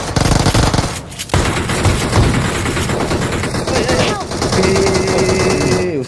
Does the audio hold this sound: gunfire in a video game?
yes